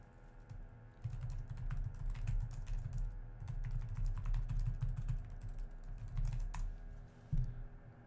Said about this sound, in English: Let me actually type something here.